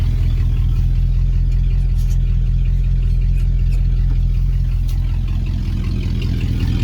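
A 1971 Dodge D100 pickup's engine runs steadily and loud at a rough idle, close by, while the truck is put in gear, with a few faint clunks and rattles over the constant rumble.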